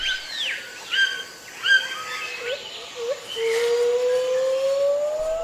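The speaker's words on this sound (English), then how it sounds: "And now another bird is joining in. He's trying to sing louder than the other bird. It's a toucan with a lovely bright beak." A toucan calls in the rainforest, a series of whistling, chirping notes repeated several times over steady jungle ambience, followed by a long rising tone.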